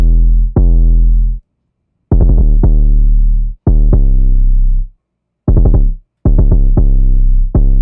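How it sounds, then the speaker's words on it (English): Deep 808 bass notes in a beat boom out in short bursts, each hit swelling and then decaying, with some quick rapid-fire retriggers and brief silent gaps between phrases, loud and alone. "Next is the 808. It sounds like this."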